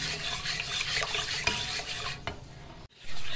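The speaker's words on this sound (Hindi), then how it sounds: "अच्छे तरीके से आपने इसको मिक्स करना है ताकि कोई भी लम्स ना रह जाए माई वाइट सॉस में" Milk is whisked into a white sauce for chicken lasagna, giving quick, continuous scraping and clinking of a whisk against the pan over a soft background hiss. The sound stops abruptly near the end.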